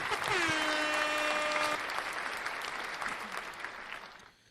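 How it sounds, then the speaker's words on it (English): Dense recorded applause from a crowd, loud and steady at first, then thinning and fading away over several seconds, with a brief tonal chime near the start. "Let's clap it up for him."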